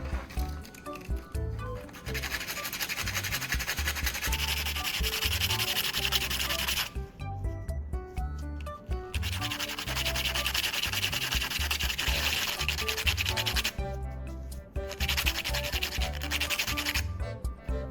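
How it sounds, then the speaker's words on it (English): A battery core being ground into a fine soldering tip, a loud continuous abrasive grinding that stops briefly twice and then resumes, close and with no talk. "Next, I'll grind the battery core to shape it into a fine soldering tip."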